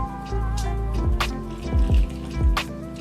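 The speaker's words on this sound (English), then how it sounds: "And then 3/4 a cup of warm water." Warm water poured into flour for homemade pizza dough, a close, steady trickling pour with bubbling glugs and a few splashy bursts as it fills the bowl.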